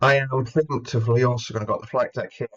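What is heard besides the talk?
No everyday noises stand out.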